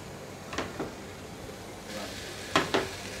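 Vegetables hit a hot pan for a chicken Arabian sizzler, sending up a soft hiss that swells midway, with a few sharp clinks of a utensil against the pan.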